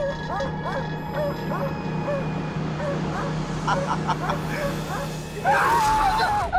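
A dog barks and yips in repeated short bursts, mixed with whimpering, while a voice shouts and pleads under dramatic background music, with a louder burst near the end.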